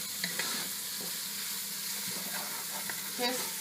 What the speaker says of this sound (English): Just saute it really nicely so we can get all the juices from the onions